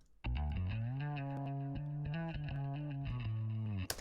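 A fretless bass plays a solo line through chorus, delay and light distortion, with sustained sliding tones holding steady after a sharp start and ending in a brief noisy burst, loud and alone.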